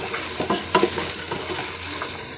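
Boiled dal is stirred into a beef curry in a pot, with close scraping and wet stirring strokes over a constant sizzle and no talking.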